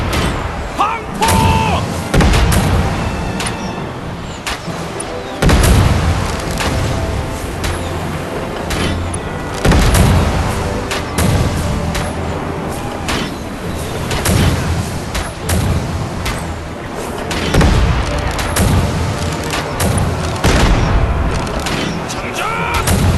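Joseon warships fire their cannons in a battle of the Imjin War, with repeated heavy booms and crashing blasts spaced a few seconds apart across a loud, noisy battle scene, while voices shout commands between the shots.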